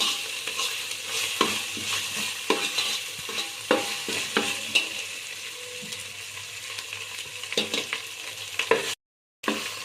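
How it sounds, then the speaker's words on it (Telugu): Ginger-garlic paste frying in oil while stirred, with irregular spatula scrapes and clinks over a steady sizzle, close and moderately loud, no voices, ending in a brief cut to silence. "అల్లం వెల్లుల్లిపాయ వేగాలి అడుగంటకుండా తిప్పుతూ ఉండాలి"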